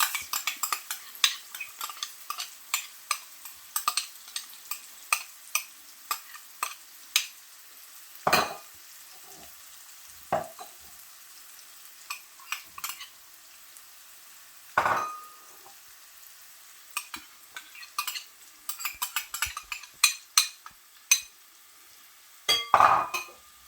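Ginger and garlic sizzling in a pan on lowered heat, with a soft frying hiss broken by scattered clinks and scrapes of a utensil stirring against the pan, some louder knocks standing out.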